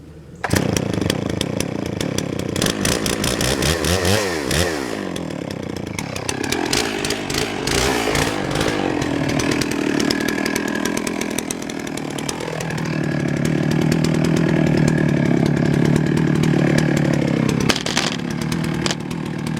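A chainsaw cuts through big firewood rounds, running loud and continuous for the whole stretch. The engine pitch shifts as the chain bites into the wood and eases off.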